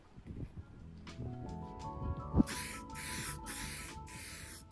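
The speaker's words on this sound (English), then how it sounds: "so I sprayed it with matte varnish that I had" Matte varnish sprayed from an aerosol can onto a wooden desk part, heard as several steady hissing bursts in quick succession after a few quieter handling knocks.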